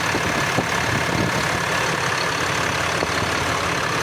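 A 6.7 liter diesel truck engine idles steadily, a continuous close rumble with an even low throb and no voices.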